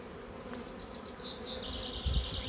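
Honeybees buzzing around low-set hives housing a large colony, a steady continuous hum with individual bees droning past close by.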